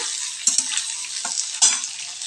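Potatoes are added to nearly fried onions in a hot pan, producing a bright, close sizzle broken by a few spatula scrapes and stirs.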